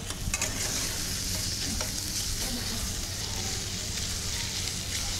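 Onions and chicken masala with ginger-garlic paste frying in a pan for Chettinad chicken, giving a steady, close sizzle with occasional stirring scrapes throughout.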